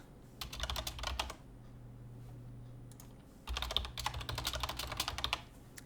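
Keys clatter in two quick bursts of typing on a computer keyboard, close and crisp, with a low steady hum and a pause between the bursts.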